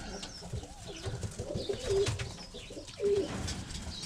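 Pigeons coo in a cage, with soft, low, throaty calls repeating close by over light background noise and a few faint chirps.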